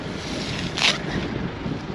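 Strong wind blows across an open farm field, a dense roaring rush buffeting the microphone, with one brief louder gust midway.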